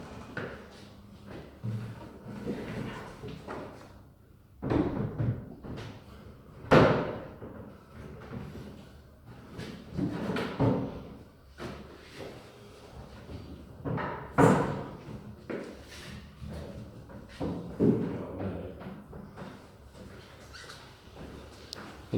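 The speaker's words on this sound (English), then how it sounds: "And the front doors can be placed." Wooden front doors of a Neptune Grand wardrobe are handled and fitted into place, giving a run of knocks, bumps and scraping thuds in irregular bursts, fairly close and moderately quiet, with no talk.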